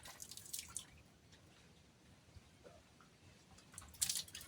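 Water drips at a natural mountain spring in Nasugbu, Batangas, with sparse, faint splashes and soft trickling over a quiet outdoor background.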